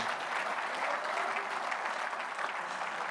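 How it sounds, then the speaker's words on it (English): An audience at a conference breaks into a steady wash of clapping, many hands blending into dense, even applause that holds throughout at a moderate distance. "just clap because it's the first time"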